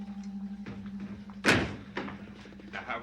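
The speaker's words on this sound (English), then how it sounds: "Close the doors." Doors closed indoors, a sharp thud at mid-point followed by a lighter knock and faint shuffling, over a steady low hum.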